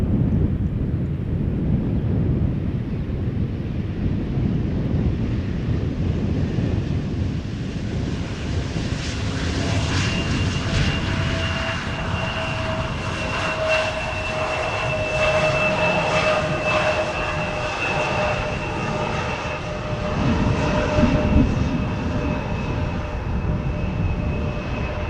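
A KLM Embraer 175 landing at Schiphol Airport, a steady jet roar with a whining engine tone that swells as the airliner passes and then holds for about 25 seconds, with no talk.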